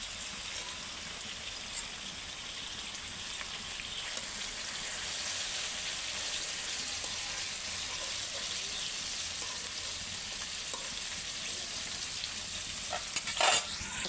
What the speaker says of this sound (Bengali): আলুটা কাঁকরোলটা ভাজতে বসিয়ে দিয়েছি